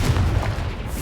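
A Confringo explosive spell goes off in Hogwarts Legacy, a single dense low boom with a rumbling burst that fills the short moment, loud and close, with no talk over it.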